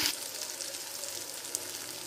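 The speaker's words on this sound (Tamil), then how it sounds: "வெங்காயம் நல்லா தக்காளி நல்லா வதங்கணும் ஃப்ரெண்ட்ஸ், அப்போதான் கிரேவி நல்லா இருக்கும்." Onions and tomatoes soften in a pan for a fish and okra tamarind gravy, giving a quiet, even sizzle with faint stirring scrapes and a small clink near the end.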